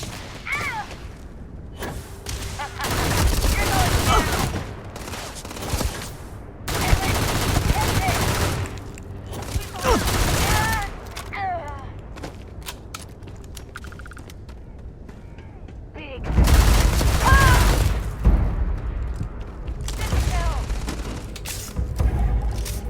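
Bursts of automatic gunfire and heavy booming shots in the Starfield video game, several loud fusillades separated by quieter stretches, with rapid rattling volleys near the start, middle and toward the end.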